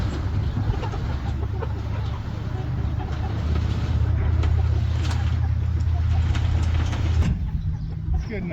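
Chickens on a farm cluck and mutter in a steady low chorus, fairly close, with a continuous rumble underneath and a brief change near the end; no speech stands out.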